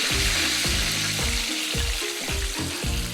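Pork chops frying in a pan give a steady, close sizzle that fills the clip, with a few clatters and low thumps of handling mixed in and no talking.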